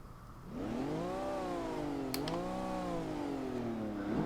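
A high-revving 2013 Ferrari LaFerrari engine in the video game Forza Horizon 2 howls steadily, its pitch sweeping up and down through gear changes, loud and close with no talking.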